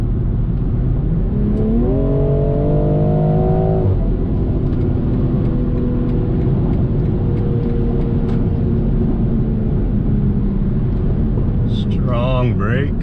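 A 2020 BMW M340i xDrive accelerates, its engine note climbing in pitch over a few seconds and then settling into a steady drone from inside the cabin, with faint chirps near the end.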